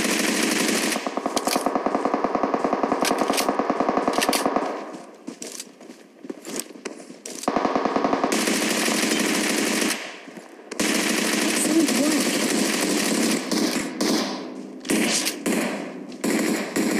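Dense bursts of automatic gunfire from a BGMI (PUBG Mobile) battle-royale match, played in rapid volleys that stop and start across the stretch, loud and near, with short lulls between firefights.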